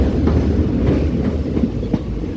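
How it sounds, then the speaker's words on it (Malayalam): A passenger train on the Punalur to Aryankavu line rumbles steadily and close, with faint rhythmic clicks from the wheels over the rails. "റെഡ് സിഗ്നൽ കാണിച്ചിട്ട് നമ്മുടെ ട്രെയിൻ കയറി പോന്നു"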